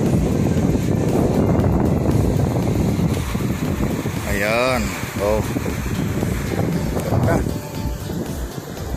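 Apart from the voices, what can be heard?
wind at a beach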